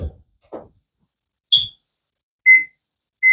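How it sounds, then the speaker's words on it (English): Oven timer beeping while being set during gumbo cooking: a few soft clicks, then three short, clear electronic beeps spaced about a second apart, close and alone. "We'll set the timer for another 15 minutes."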